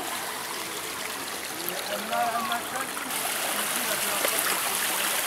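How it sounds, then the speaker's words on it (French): A small stream trickles steadily through Parc des Buttes Chaumont in Paris, a soft continuous flow of water heard close by, with faint voices in the background. "Il y a un tout petit cours d'eau."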